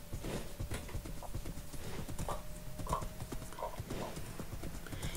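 Horse hooves clip-clop in the Minecraft video game: a steady rhythm of hollow, clip-clopping steps at moderate volume, with a few brief neigh-like tones mixed in.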